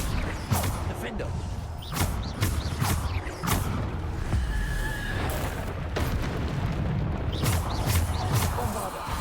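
Bombarda blasting spell from Hogwarts Legacy going off repeatedly, a series of sharp booming bursts with crackling debris over a busy game backdrop, several impacts spaced a second or two apart.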